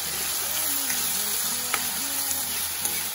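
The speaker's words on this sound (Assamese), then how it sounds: "আৰু এইখিনি মই এতিয়া ভালকৈ লৰাই ল'ম" Chopped tomatoes stirred in a hot pan, a steady close sizzle with a few light clinks of the spoon against the pan.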